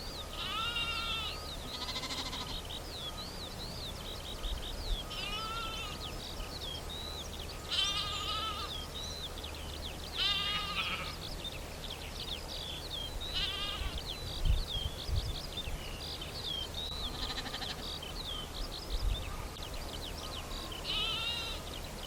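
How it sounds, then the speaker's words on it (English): Lambs bleating on Lundy island, several high wavering calls repeating every few seconds over a steady outdoor background, fairly close and clear, with no talking. "And here are the lambs"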